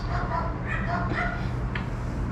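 Dogs bark at a mall in Acapulco, Mexico, a few yips and whimpering barks heard over a loud, steady background hum with some voices.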